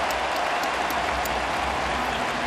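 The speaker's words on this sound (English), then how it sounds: "Some cheering for Guerrero for making a nice play." A baseball stadium crowd cheers after a nice fielding play during Vladimir Guerrero Jr.'s MLB debut at a Blue Jays home game, a broad, steady roar of applause and crowd noise filling the whole span.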